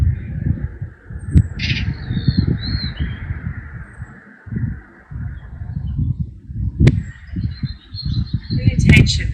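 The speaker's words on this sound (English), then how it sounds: "just before the sunrise when the birds are starting to sing" Birds call around sunrise with brief, faint chirps and short calls scattered over the scene. A low voice murmurs beneath them.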